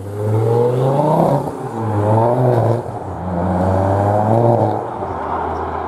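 A car pulls away from a vehicle workshop after repairs, its engine note rising and falling steadily through gear changes, loud and close throughout.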